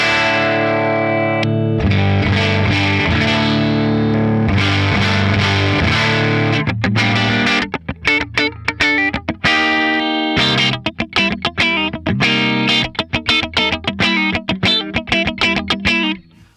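Electric guitar through a Line 6 Pod Express amp modeler with the presence control turned fully up, set for a worship tone: bright, effects-laden sustained chords give way to choppier, rhythmic picked notes, loud and continuous with no talking.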